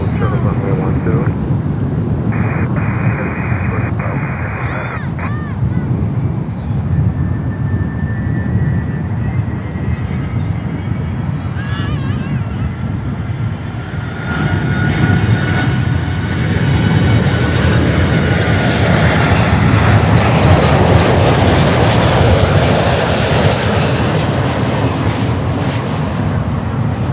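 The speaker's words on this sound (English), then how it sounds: "Another buttery landing from Virgin Atlantic." A Virgin Atlantic airliner lands at Miami airport, its engine roar and rushing air building into a loud, sustained rumble with wind buffeting the microphone, while radio chatter and voices talk over it.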